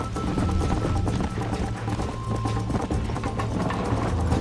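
Galloping horse in the video game Red Dead Redemption, a steady rhythmic clip-clop of hooves running continuously and fairly loud over a low rumbling game soundscape.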